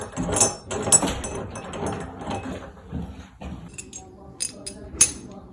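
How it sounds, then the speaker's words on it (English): A threaded handle is unscrewed off the shaft of an old rimlock, giving close metallic ratcheting clicks and light clinks in an uneven sequence, with a sharp click near the end. "unscrew the handle, the threaded handle, off the shaft."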